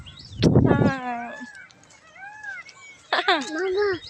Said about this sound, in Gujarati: મોર બોયલો.